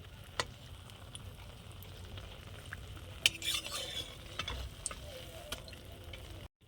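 Tal pitha, sweet palm-fruit cakes made with eggs, frying slowly in oil: a faint, steady low sizzle with occasional light utensil clicks and taps, no talking.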